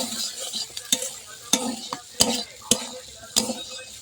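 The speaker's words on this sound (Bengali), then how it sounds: "আলু ভাজাটা মা তুলে দিয়ে গেছে, আমি একটু নেড়ে দিই।" Potatoes fried with green chillies are stirred in a pan, a soft background sizzle broken by a series of sharp, irregular scrapes and clinks of the utensil against the pan, close and fairly loud, with no talk.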